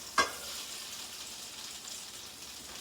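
Onions frying in a hot new wok, a broad steady sizzle that opens with a sharp hiss as they hit the pan and then settles into an even crackle.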